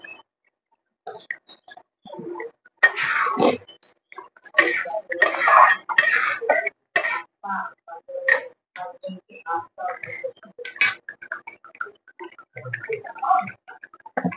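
Fried potatoes go into a pot of meat cooked in a pressure cooker, with scattered clinks and knocks of a utensil against the pot between stretches of talking.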